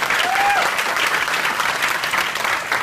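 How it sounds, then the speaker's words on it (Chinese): An audience at a company product-testimonial talk claps steadily and fairly loudly throughout, with a brief faint whistle near the start. "请给我掌声一下"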